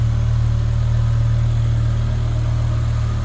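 A 2007 BMW M6 coupe's 5-liter V10 idles nearby in a steady, even, low rumble with no revving and no voices.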